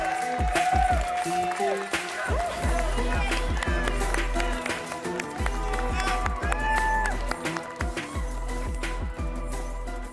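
Large live crowd at the EA Play E3 2019 presentation applauding and cheering for NFL player Juju Smith-Schuster, a dense, loud wash of clapping and shouts mixed with stage music and an announcer's voice throughout.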